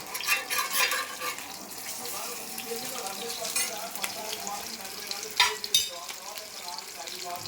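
Fish sizzles and crackles steadily as it fries in a pan, a constant hissing texture with occasional louder pops and spatters, faint speech underneath at times.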